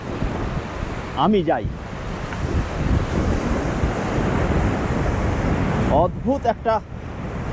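A strong mountain river rushes under a temporary bridge on a trek through rough terrain in Kishtwar, a loud, constant watery roar with wind, as someone speaks briefly over it at the start and end.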